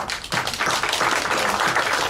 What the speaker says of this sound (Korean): 우리 박수 환영합니다